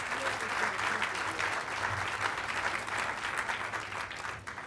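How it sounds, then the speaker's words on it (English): Audience applauds mayors during a mayor's inaugural speech, a sustained wash of clapping from a large crowd heard at moderate distance, steady throughout with faint voices beneath. "So if you wouldn't mind giving all those mayors just one round of applause for what they're doing."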